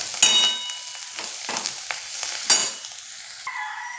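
Onions fry in a pan with a pinch of turmeric for kande pohe, a soft sizzle broken by a few scraping strokes of a spoon and light metallic clinks.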